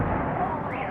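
Fireworks from a May 9 Victory Day salute in Kaluga, 2018, give a brief, heavy low rumble that rolls on for under a second.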